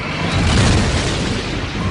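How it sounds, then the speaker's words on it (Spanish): Supernova explosion effect: a deep, rumbling blast that swells in and sustains loud and full for the whole stretch, like a continuous roaring boom without any voice over it. "Algunas estrellas al morir producen una explosión supernova."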